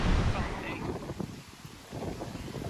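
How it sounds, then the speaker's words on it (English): Strong wind gusts roaring across an outdoor microphone during a building move, with broadband rumble that swells and eases, and voices talking over it. "So windy."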